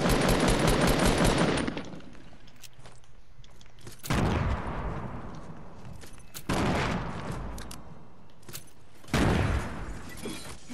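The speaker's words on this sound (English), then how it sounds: "I just blew that entire house up" A house blown up in Fortnite, the game's gunfire and explosions coming as four loud bursts of crackling, shattering blasts, each fading out before the next hits.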